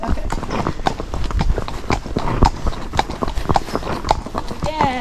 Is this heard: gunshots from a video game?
no